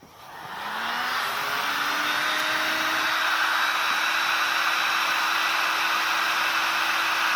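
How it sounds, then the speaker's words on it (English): A heat gun blows hot air steadily onto the viscous fan coupling of a Ford XC Fairmont 351. It starts with a rising whine that settles into a loud, continuous, close roar. "So I just want to check with a heat gun whether that's the case."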